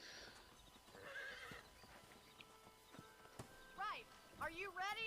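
A horse in the Western video game Red Dead Redemption whinnies and snorts with a few hoof clops, the neighs coming late and fairly loud, with a voice talking nearby.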